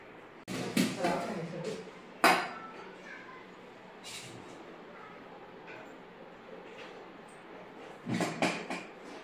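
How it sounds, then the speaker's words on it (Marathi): Washed copper and brass pots being put away in a home kitchen, giving a few sharp metallic clinks near the start, middle and end, with quieter handling noises in between. "सगळे भांडे घासून झालेले आहेत, आता लावायला घेतलेले आहेत."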